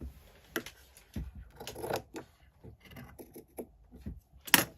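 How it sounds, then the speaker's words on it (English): Fabric for a tote bag is cut in a series of short, irregular snips and rustles, close and fairly quiet, with a louder crisp rustle at the end. "put that on the end of the fabric, and then I am going to cut it"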